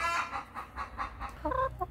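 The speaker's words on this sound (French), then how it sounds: "j'ai une poule qui s'excite là-bas" An excited hen in a garden clucks noisily in a quick run of repeated calls that rise into sharper squawks near the end, heard at moderate distance.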